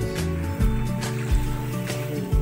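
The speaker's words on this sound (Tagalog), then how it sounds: "Naririnig niyo yung ano? Ito yung dagat. Medyo mabato siya rito." Sea water washes over a rocky shore at night beside a seaside campsite, soft surging wash with a steady low background, heard close and without talk.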